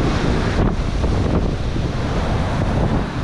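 Heavy wind buffets the microphone on the shore in Durban, with roaring surf and waves underneath, a loud, continuous broadband rush that barely varies and carries no talk.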